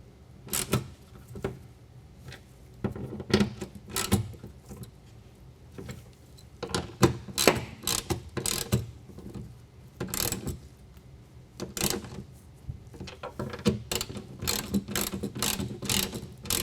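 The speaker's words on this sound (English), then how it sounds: "use our included hardware, and snug that up again to 90 inch-pounds" A ratchet clicks in quick bursts, close and crisp, tightening toolbox strike plate bolts on a 2022 Toyota Tundra truck bed, with short pauses between runs of clicks.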